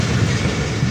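A passenger train rolls into the platform at Nawabshah station, a steady close rumble of wheels and carriages on the track.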